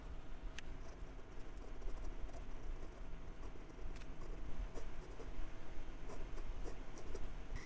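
A Wing Sung 601 fountain pen scratches steadily across paper, a faint continuous close-up scribble with small ticks as strokes start and stop.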